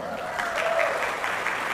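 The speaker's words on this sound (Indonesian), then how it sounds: "Tepuk tangan dulu." Church congregation gives a short burst of steady applause, close and fairly loud, with a faint voice briefly rising above the clapping.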